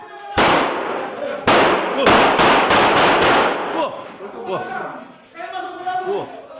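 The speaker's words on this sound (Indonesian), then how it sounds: "seorang pria meletuskan sejumlah tembakan ke udara terekam kamera warga" A man fires a volley of gunshots into the air in Percut Sei Tuan, Deli Serdang, North Sumatra, giving loud, sharp cracks in quick succession, followed by a quieter stretch of crowd noise and voices.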